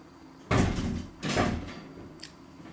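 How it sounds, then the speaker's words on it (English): Indoors, a dog throws itself against a closed door: two heavy, dull thumps about a second apart, each with a short rattle, then a fainter knock, with no talk. "That's the dog you can hear trying to break through the door."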